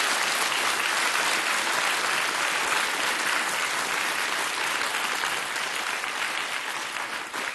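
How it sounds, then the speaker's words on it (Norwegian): A crowd gives sustained, dense applause for a cod liver oil maker with about 30 years in the trade, a steady wash of many hands clapping that tapers slightly at the end. "det synes jeg han fortjener en applaus for dere"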